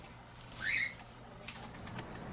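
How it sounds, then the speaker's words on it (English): Pet birds in a home aviary of finches, parakeets, a Quaker parrot, cockatiels and an African grey parrot give a few faint chirps and a brief whistled call over a low steady hum. "She has 11 finches, 2 parakeets, a Quaker, 4 cockatiels, an African gray parrot."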